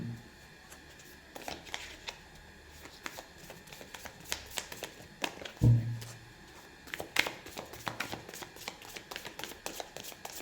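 Tarot cards are shuffled and handled from a deck at close range, quiet riffling and slides with a few sharper taps and flicks, no speech.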